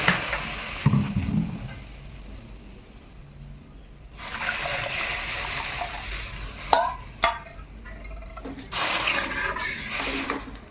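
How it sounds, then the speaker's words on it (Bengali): Water goes into a pan of vermicelli fried red in ghee, setting off a sudden loud hissing rush that continues with bubbling and a few clinks of utensils. "এরপর আমি আগে একটু জল দিই, তারপর দুধটা দেবো।"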